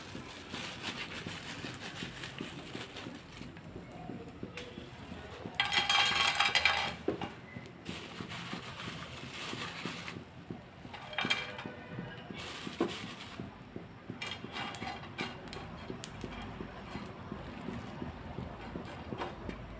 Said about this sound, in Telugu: ఫస్ట్గా ఈ రొయ్యల్ని కాస్త వేయించుదామండి ఆయిల్ ఏం వేయకుండా